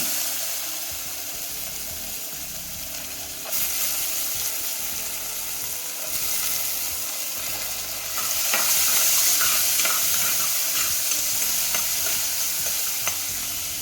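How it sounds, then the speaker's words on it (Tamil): Small onions and red chillies frying in a pan, a steady close sizzle with scraping stirs that grows louder and busier partway through. "இப்போ சின்ன வெங்காயம் போட்டுக்கோங்க."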